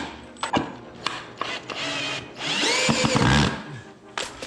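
Power drill driving screws into a cut 2x4 for a backyard mountain bike drop ramp, with short bursts and a longer whirring run, plus knocks and handling noises of wood nearby.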